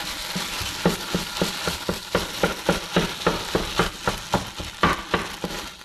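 Steady sizzling and crackling of soy chorizo browning in a pan, with rhythmic scraping pulses as it is stirred, close and continuous.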